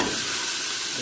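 Oxtail pieces hitting a hot pot, giving a loud, close, continuous sizzle and hiss with no talking.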